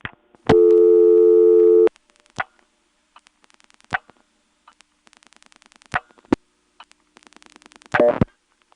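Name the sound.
vacant level tone on XY step telephone exchange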